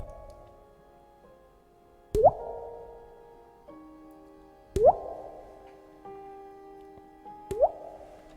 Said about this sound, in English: The only sound you hear is the dripping red blood droplets.